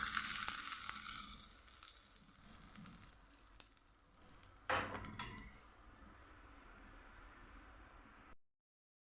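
A tempering of mustard seeds, cumin, curry leaves and red chili sizzles loudly in hot oil for ivy gourd thuvaiyal. A bright crackling hiss fades gradually, a sharp burst flares midway, and the sound cuts off to silence near the end.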